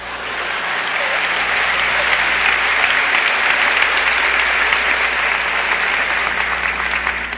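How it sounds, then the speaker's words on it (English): Sustained applause from a lecture audience, a dense wash of clapping that swells in over the first second and then holds loud and even for several seconds, with no speech over it. "it's premature, your applause"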